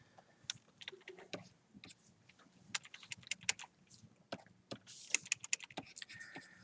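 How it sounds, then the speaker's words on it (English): Rapid, uneven clicking of computer keyboard keys and hotkeys pressed during a digital art drawing session, close and fairly quiet, with short bursts and brief pauses between keystrokes. "I'm using a bunch of hotkeys on my keyboard here"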